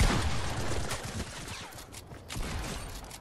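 Gunfire in Fortnite, a dense volley of rapid shots fading and returning in bursts, fairly close but muffled.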